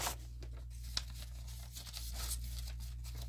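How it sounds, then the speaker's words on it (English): Stiff paper napkin being trimmed, a series of close, dry cutting and tearing rasps with crinkling paper in short irregular bursts over a low background hum, no one talking. "I'm just going to trim, trim it down there"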